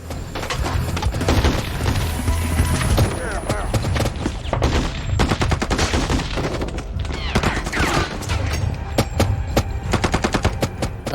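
Rapid bursts of gunfire in a film action scene outside a restaurant as people flee to a car, loud and continuous over dense booming score, with voices mixed in.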